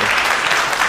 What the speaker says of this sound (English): Oh, well, Matt and I can applaud.